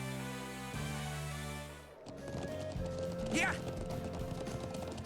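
A horse gallops in the video game Trails of Cold Steel, its rhythmic hoofbeats running under game music with a brief spoken word from a player.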